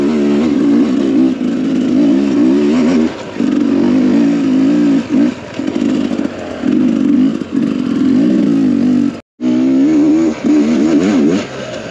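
A Sherco 300SEF four-stroke dirt bike rides mountain single track, its engine loud and close, rising and falling in repeated throttle surges with a brief cut near the end.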